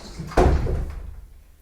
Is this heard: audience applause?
no